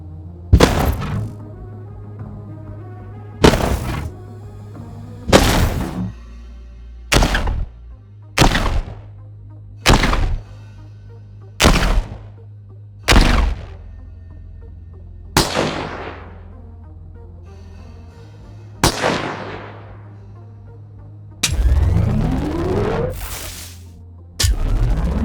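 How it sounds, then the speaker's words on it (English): Maliwan sniper rifle sound effects for the game Borderlands 3: a series of about a dozen loud, sharp synthetic shots with ringing tails, evenly spaced, ending in a longer sweeping charge-up burst, with no voices. "here's a quick look at the rest of the sounds I had to make for the Maliwan sniper rifles"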